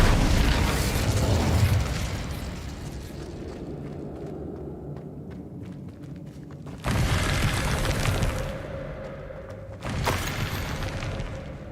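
The Incendio fire spell cast in Hogwarts Legacy, a loud roaring burst of magical flame that rumbles and fades, followed by two more sudden fiery whooshes, with no talking.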